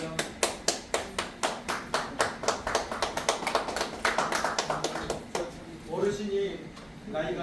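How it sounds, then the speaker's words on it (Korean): An audience at a year-end concert claps in a steady, even beat, the sharp claps close and clear for several seconds before a voice comes in over the clapping. "자, 박수 부탁드리겠습니다"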